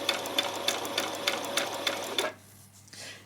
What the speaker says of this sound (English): Back stitch, and then go all the way up, keeping that at that 3/8 of an inch.